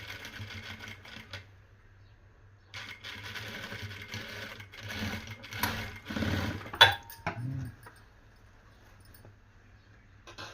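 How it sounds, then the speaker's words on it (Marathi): A sewing machine stitching a blouse seam in several bursts of rapid mechanical whirring, separated by brief pauses and a few clicks, heard fairly close. "डबल शिलाई मारून घ्यायची."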